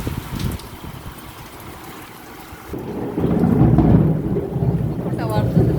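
Thunder rolls through a rainstorm, starting as a low rumble over steady rain and swelling louder and deeper midway, with rain hiss continuing underneath; no speech.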